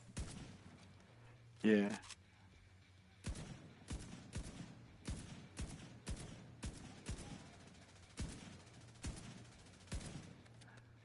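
Gunfire in The Division 2 video game: a steady run of short, punchy shots in a rhythmic sequence, fairly close, with a brief spoken word near the start.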